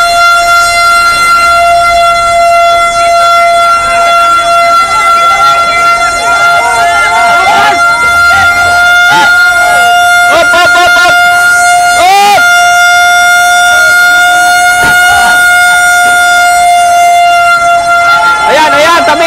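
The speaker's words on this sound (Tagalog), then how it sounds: "sa kasalukuyan may fire trucks na nang dumarating" Loud, continuous fire truck sirens wail with sustained horn blasts, close and overwhelming, while voices and crowd noise sit faintly underneath at a building fire in Masbate City.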